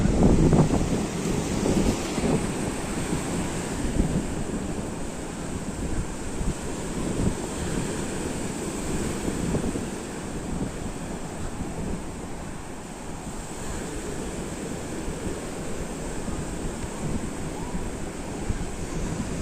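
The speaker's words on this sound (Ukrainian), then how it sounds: "Як хвилі перекидаються через волноріз." Storm waves in Odesa crash over a breakwater, a loud, continuous roar of surf and churning water with heavy wind buffeting the microphone throughout and no voices.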